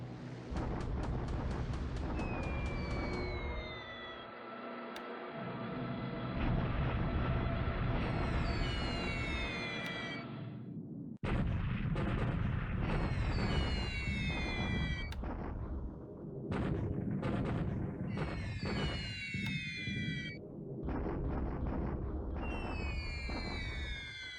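Massive artillery bombardment of Hong Kong troops in a WWII strategy game, heavy continuous booming explosions layered with repeated whistling, descending shell or aircraft sweeps, loud and dense throughout.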